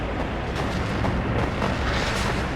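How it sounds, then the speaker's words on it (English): Artillery shells bursting on a road in the WARNO strategy game, a dense, continuous rumble of overlapping distant explosions and booms with no clear gaps, steady and loud across the short stretch. "these Milans just like free hitting their reinforcing road here with the artillery"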